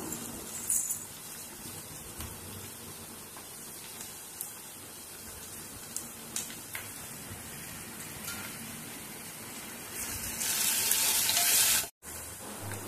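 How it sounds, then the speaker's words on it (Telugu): Ginger garlic paste and turmeric frying in a pan, a steady close sizzle with occasional stirring clicks, swelling louder near the end before a brief cut, with no talking. "అల్లం వెల్లుల్లి పేస్ట్ వేగాక ఇప్పుడు కొంచెం పసుపు వేసుకుందాము"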